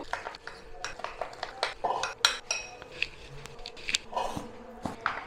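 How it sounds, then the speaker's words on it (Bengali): A spoon works moong dal pakora batter with cornflour in a bowl, giving quick irregular clinks and scrapes against the bowl, close and fairly busy over a faint background. "ভালো করে মিশিয়ে নেবো"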